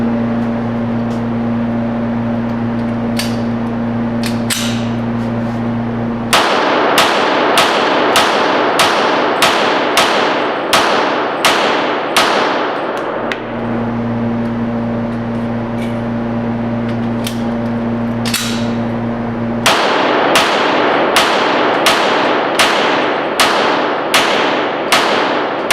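A semi-automatic firearm fires ten rounds at a target from the 10-yard line at a range, sharp cracks in two rapid bursts of about five shots each over a steady hum, loud and close with no talk.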